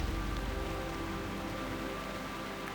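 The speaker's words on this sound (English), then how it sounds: "Man, this is some proper heavy rain right now." Heavy rain in the video game TurtleWoW, a dense, steady hiss of downpour that stays loud and even throughout with no pauses.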